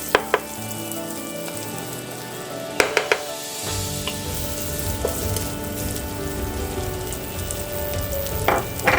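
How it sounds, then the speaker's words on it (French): Butter melting in a saucepan over the heat to start a roux for blanquette de veau, a loud continuous sizzle and crackle close by, with a few sharp clinks of the pan, no voices. "On va attendre que notre beurre il fonde complètement."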